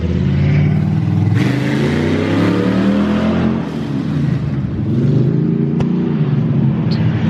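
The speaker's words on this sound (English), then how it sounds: "He's got an old IROC Camaro. It sounds pretty good," A loud, throaty cammed V8 in an IROC Camaro, running straight headers, idles and revs in rough, lopey bursts, close by, the pitch rising and falling with each blip of the throttle.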